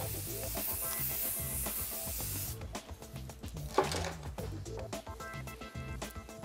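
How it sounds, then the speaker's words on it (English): Aerosol hairspray mists onto finished, styled hair in one steady hiss lasting about two and a half seconds, followed by quieter rustling and handling noises nearby. "finish it with a bit of hairspray"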